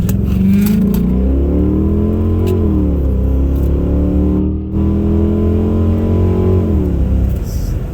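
A 2005 Chrysler 300C AWD with the Hemi engine pulls hard from 0 to 70, its loud, close engine note climbing through the gears with a brief dip at one shift before rising again.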